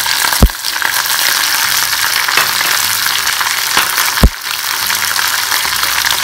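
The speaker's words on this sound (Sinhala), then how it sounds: "දැන් අපි අපේ මාළු මිරිස් ටික මේ තෙල් එකට එකතු කරගන්නවා." Capsicum chillies fry loudly in oil with salt and tomato, a steady, dense sizzle broken by two sharp knocks of a spoon against the pan.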